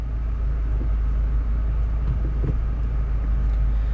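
A 2022 Subaru WRX with a manual gearbox pulls away in first gear, a steady, loud low engine drone and road rumble running continuously from start to end with no talk.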